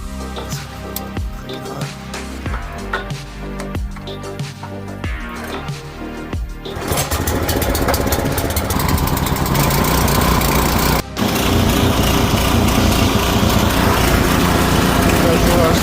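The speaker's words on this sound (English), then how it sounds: "Okay, time to pressure wash it." A pressure washer blasts the blown-out crossmember from an 18-year-old Nissan 350Z: a rough running engine gives way after several seconds to a loud, steady, close roar of high-pressure spray that continues to the end.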